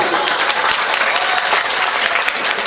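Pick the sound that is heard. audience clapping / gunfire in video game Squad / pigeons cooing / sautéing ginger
audience clapping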